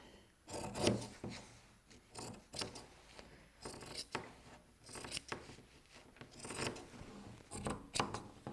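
Scissors snip and rustle through excess quilt batting in irregular close bursts, with soft fabric handling between cuts.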